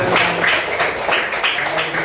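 Students in an Indonesian classroom give a short round of applause for a classmate's answer in a lesson on smart and non-smart machines. The clapping is dense, steady and close, with faint room murmur beneath.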